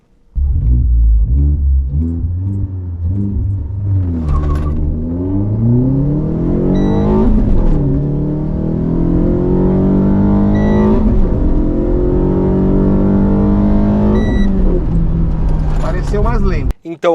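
A Renault Sandero RS held at 2,500 RPM and launched hard from a standstill, its engine bogging: loud, close droning that sags and then labours upward in pitch through several gear changes, with a brief cut at the end.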